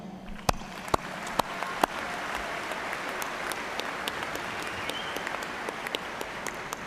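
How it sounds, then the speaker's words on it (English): A large commencement crowd gives a generous round of applause at a spring graduation ceremony, steady dense clapping from many hands with a few sharp nearby claps at the start, sustained and even. "with a generous round of applause"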